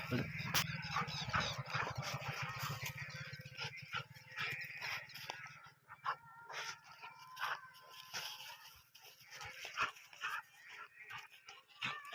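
A dog whimpers and makes low grumbling sounds nearby while people talk over a steady outdoor hum.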